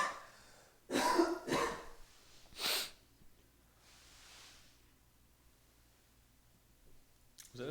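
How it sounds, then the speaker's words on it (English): A couple of sharp nasal bursts, a sneeze-like blast and snort, break a quiet room, followed by soft breathy noise and a faint voice at the end. "Was that a sneeze?"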